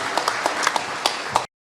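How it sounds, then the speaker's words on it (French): Brief applause from a conference audience after a panel discussion, a busy patter of many hands with a few louder claps, cutting off abruptly into silence. "Applaudissements pour notre deuxième panel sur cette thématique croissance responsable"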